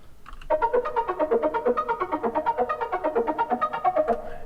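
Sampled Rhodes electric piano run through an arpeggiator, giving a rapid, steady stream of plucked notes that rise and fall in pitch for about four seconds, clear and upfront.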